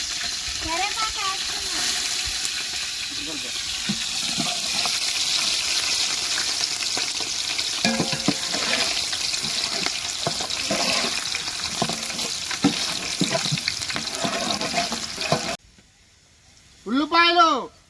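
Green chillies fry in oil in a pan in a village kitchen, a continuous hissing sizzle with occasional clinks, then a brief near-silence and a short burst of sizzle at the end; someone talks over it.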